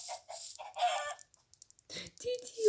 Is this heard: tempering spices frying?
no